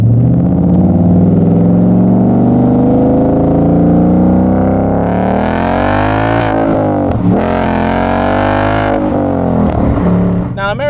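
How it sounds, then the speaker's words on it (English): A Ford Mustang GT's 5-litre V8 revs hard and close, its rising roar climbing steadily in pitch before dipping and surging again near the end. "You want a Mustang that makes this kind of noise."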